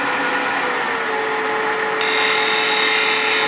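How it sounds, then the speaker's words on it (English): Steady, close hiss of a lathe gouge scraping side grain on spinning wood, with a constant motor whine beneath that grows slightly brighter and louder partway through. "Or I can scrape with the wing of the gouge"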